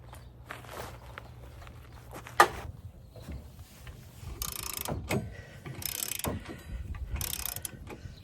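A wrench works the bolts loose on a trailer's weight distribution system, giving quiet ratcheting clicks and metallic clanks, one sharp bang partway through, and shuffling footsteps nearby.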